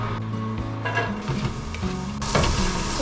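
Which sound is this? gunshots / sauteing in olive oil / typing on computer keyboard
sauteing in olive oil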